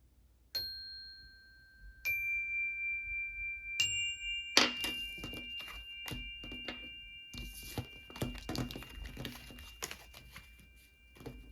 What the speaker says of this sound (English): Let me do some chimes for pile 3.